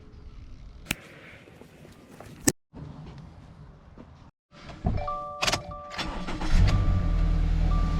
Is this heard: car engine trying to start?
yes